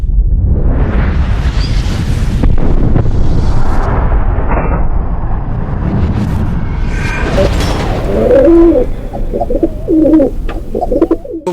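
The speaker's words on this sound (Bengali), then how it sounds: "এখানে আনুমানিক দশ জোড়া পায়রা আছে বন্ধুরা মানে কুড়িটা পায়রা হয়তো হবে" Madrasi pigeons, around ten pairs, cooing in a loft in Kolkata, a loud, close mass of low, throaty coos over heavy rumbling handling noise, with bird calls coming clearer toward the end.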